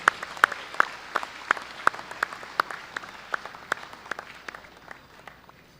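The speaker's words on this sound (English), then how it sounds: "Brother Knights and Sisters, let us give a round of applause to Brother Rosalio Derilo" An audience claps steadily for an award recipient at a Knights gathering honoring Fathers for Good awardees, a moderate room-filling applause that slowly thins out, with no voices over it.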